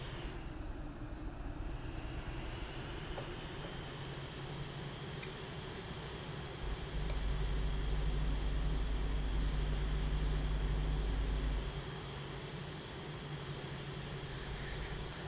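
Jet engines of a Boeing 787-8 airliner in the Prepar3D v5 flight simulator roar and whine steadily during takeoff, with a deep rumble swelling through the middle before easing back to a constant hum.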